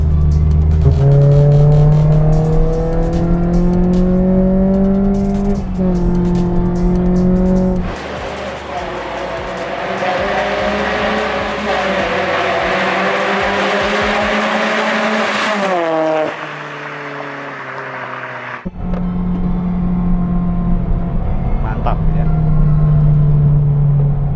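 A modified Mitsubishi Lancer EX GT engine revs and accelerates loudly, pitch climbing through gears with brief drops between shifts, then settling back to a steady drone.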